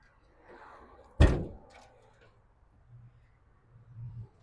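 A pickup truck door with a big-block 454 engine shuts with one solid, close thunk, then a quiet lull and a low murmur of a voice.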